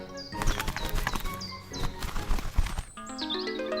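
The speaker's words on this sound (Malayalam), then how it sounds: "അവർ സന്തോഷത്തോടെ കൂട്ടിൽ നിന്നും വെളിയിൽ വന്ന് പറക്കാനായി തുടങ്ങി" Two freed birds flap their wings as they fly out of a cage in an animated Malayalam story, a fluttering burst of wingbeats followed by light chirps over soft musical tones.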